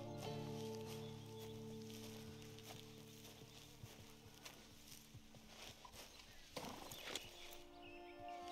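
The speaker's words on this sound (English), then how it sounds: "That's a good horse." Horse hooves clip-clop at a walk in Red Dead Redemption 2, quiet, uneven thuds over a steady tonal game ambience, with a soft snort or shuffle near the end.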